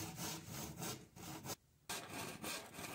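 A hand saw cuts through a plywood board in quick back-and-forth strokes, close and rasping, with one brief pause midway and no talking.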